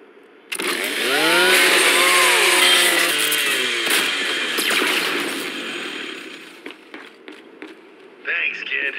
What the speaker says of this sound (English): Just use your Lancer's chainsaw.